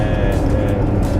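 A Fiat 125p or Mercedes W123 engine holds steady at about 3000 RPM while cruising near 90 km/h, giving a constant, loud low drone with road and wind noise and no break.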